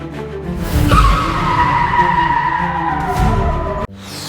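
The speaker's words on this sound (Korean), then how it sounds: "그때 나에게 오토바이가 빠르게 다가왔어" A motorcycle rushes close in a park and its tire skids in a loud sustained screech with a rising whine for about three seconds, ending abruptly.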